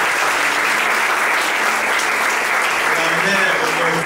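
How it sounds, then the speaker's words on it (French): Sustained clapping from a wedding ceremony audience, loud and even throughout, with some indistinct voices murmuring beneath the applause. "Madame, veuillez vous lever, s'il vous plaît, sous vos acclamations"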